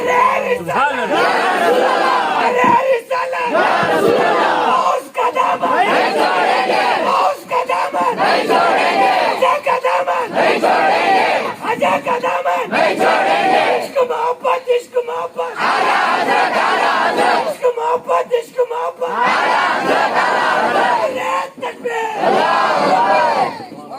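At a Jashne Ghaus Ul Wara religious gathering in Mamballi, a large crowd answers a preacher's call with repeated loud collective chants of the takbir, swelling shouts separated by brief pauses, like responsive battle cries.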